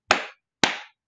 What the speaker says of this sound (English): 2 claps for Isaiah.